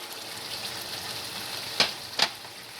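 Tomato sauce for a homemade veg pizza sautéing in a pan, with an even low hiss of bubbling throughout and two sharp clicks near the end.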